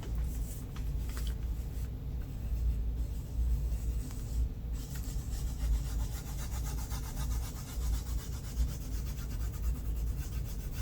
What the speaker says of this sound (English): Now when I rub the silver off, there's still some blue